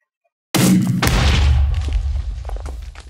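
A timed bomb detonates in Minecraft: after a moment of silence, a single loud boom bursts out and trails into a rolling low rumble that slowly fades.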